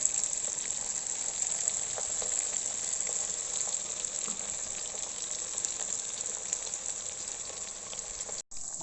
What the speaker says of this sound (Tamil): சூடான எண்ணெயில் நம்ம இப்போ கோட் பண்ணி வச்சுருக்க சிக்கனை ஒன்றா போட்டு பொரித்து எடுத்து வச்சுக்கலாம்.